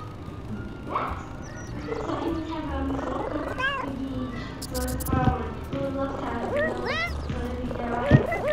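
Cartoonish cat meows and yowls from the video game Little Kitty, Big City sound in quick succession, mixed with other game creature calls and playful effects.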